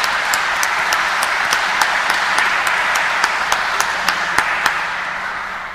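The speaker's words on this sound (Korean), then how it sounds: "다시 한번 축하의 박수로 크게 해주셨습니다" A large congregation applauds at a church celebration honoring priests on their 25th ordination anniversary, with steady dense clapping throughout and a few sharper individual claps standing out.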